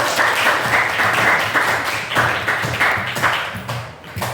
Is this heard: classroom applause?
yes